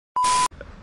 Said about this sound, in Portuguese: Tá tocando o telefone do cabra que tá gravando